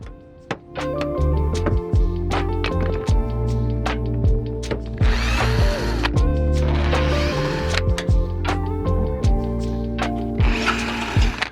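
A power drill or impact driver backs screws out of a Toyota Tundra front bumper during a fog light install, with repeated whirring bursts, short pauses between them and some clattering handling noise. No one speaks.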